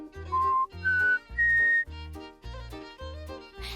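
A person whistles a short rising run of clear tones, then keeps a steady rhythmic whistling pattern going alone over a bouncy backing of repeated notes.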